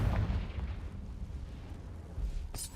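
A Confringo explosion spell cast in the Hogwarts Legacy video game, a deep booming blast right at the start that rumbles on and fades, then a sharp bright burst near the end.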